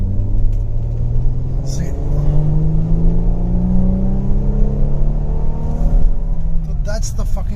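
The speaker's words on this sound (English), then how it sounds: "So I'll just do a quick overtake once, you know, this motorcyclist gets out of the way" A Mercedes SLK 350 accelerating to overtake, its engine a loud, steady rumble with rising harmonic pitch as revs climb, heard from inside the car with a brief spoken word.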